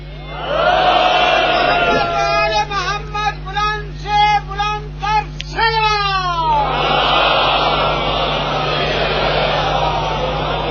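A crowd at a Muharram majlis chants salawat slogans in loud, rhythmic unison, with voices rising and falling together in strong close repeated calls that fill the space.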